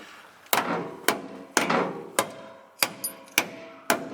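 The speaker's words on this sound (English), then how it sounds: "nothing like taking a hammer to someone else's truck" A hammer strikes the upper control arm of a third-generation Toyota Tacoma truck to bend it back, giving eight sharp metallic blows at a steady, roughly half-second pace, close and moderately loud.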